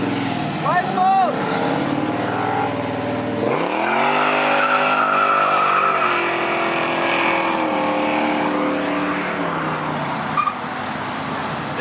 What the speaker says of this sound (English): Oh, burn out the truck!